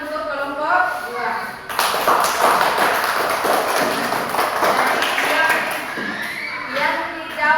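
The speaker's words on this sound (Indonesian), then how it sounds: "Beri tepuk tangan untuk kelompok 2" A class applauds group 2 after their presentation, with dense, sustained clapping of many hands mixed with voices talking over it.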